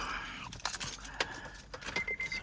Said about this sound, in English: put my keys in the ignition and hope the car doesn't explode